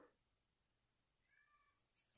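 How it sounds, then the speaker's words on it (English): A single faint, short meow sounds from a distance in a quiet room, followed by a brief loud bump close by. "I guess he's meowing for her"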